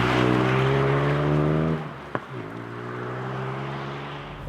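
A Ford Puma ST accelerating in second gear out of a corner on a wet, curvy road, its engine note climbing steadily, then a brief drop and click at the shift before the revs build again.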